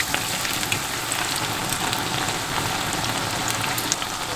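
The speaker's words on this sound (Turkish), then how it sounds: "Kekimin altı kızardı ve kekimi şimdi şöyle iki çatalımla çeviriyorum." A cake fries in a pan with a steady, dense sizzle and crackle throughout, close and even, with faint scrapes as it is flipped with two forks.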